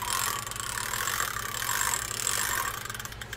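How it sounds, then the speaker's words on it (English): A Penn SpinFisher 6500SS spinning fishing reel with bad gears, cranked steadily to give a continuous rough mechanical grinding and ratcheting whir, close up and unbroken for a few seconds with no voices. "I noticed that there's a horrible grind going on in this reel."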